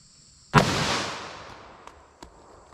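A .44 Magnum revolver fires a single loud outdoor shot into a block of clear ballistic gel, a sharp crack that trails off into a long decaying rumble, followed by a couple of faint distant pops.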